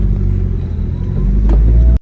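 A freshly imported Nissan S15 spins donuts, its engine a loud, close, continuous rumble with steady revving that cuts off abruptly at the end, with no talk.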